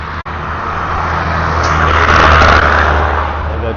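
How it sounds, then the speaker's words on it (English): A large truck passes on a small-town Georgia highway, a steady, loud roadway rumble that swells toward the middle and holds, with a brief dropout near the start and no talking. "that truck get past"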